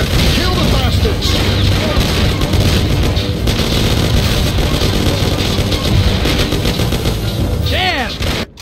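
Dense gunfire in a shootout in the game Mafia: The City of Lost Heaven, rapid shots and booms crackling over one another nonstop with shouted voices mixed in, ending abruptly.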